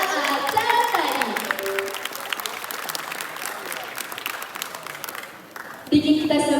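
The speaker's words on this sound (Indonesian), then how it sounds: "Kasih tepuk tangan sekali lagi dong buat penampilan pembuka acara tadi." Audience applause after the opening performance at a school stage show, a broad clapping wash blended with crowd voices and some music, sustained and gradually thinning before a louder sound cuts in near the end.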